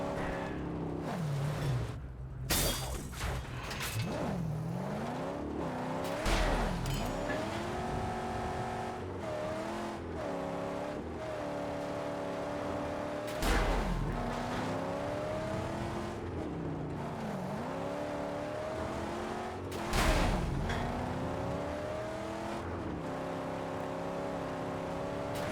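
A car drives in a video game, its engine revving steadily and rising and falling in pitch through repeated gear changes, with occasional thumps and bursts of acceleration over about twenty-five seconds.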